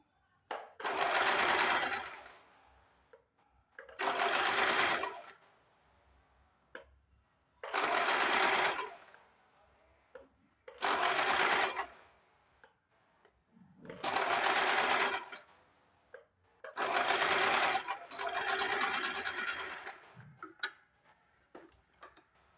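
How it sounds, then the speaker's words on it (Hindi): A sewing machine stitches two katori cup pieces onto a blouse, running in six or seven loud, steady bursts of about two seconds each, separated by short quiet pauses with faint handling sounds. "तो इस तरह से हमने ये दोनों पार्ट की सिलाई कर दी है।"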